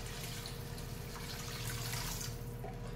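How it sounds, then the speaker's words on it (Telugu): Water poured into a cooking pot of potatoes, a steady broadband rush running continuously and fairly quiet, close by with no talk over it. "ఇప్పుడు ఇందులో కొంచెం వాటర్ పోసుకుంటాం"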